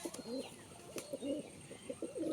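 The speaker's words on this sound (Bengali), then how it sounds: "খুব ছটফটে পায়রা।" Restless pigeons in a village loft, one of them moulting, give a run of low, rolling coos in quick bursts, close and soft, with faint chirps and clicks around them.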